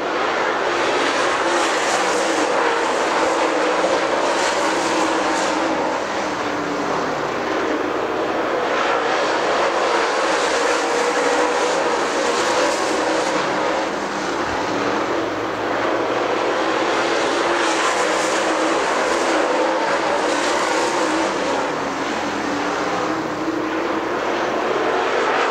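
Super late model race cars on practice laps at Dixie Speedway, a continuous loud engine roar with gentle swells as cars pass, no voices.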